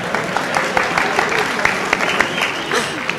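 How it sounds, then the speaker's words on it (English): An audience applauds at a 1982 campus appearance at UCLA, a dense, steady patter of many hands clapping at close range with a few sharper claps standing out, sustained throughout without a clear start or finish. "Let's hear your applause."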